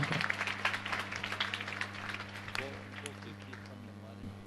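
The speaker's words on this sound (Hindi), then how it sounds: "एक बार अभिनंदन कर दीजिए, तालियों से बंद हो।" Applause from an audience at a religious discourse gathering, brief clapping that fades quickly into a steady hum, with a voice speaking over it.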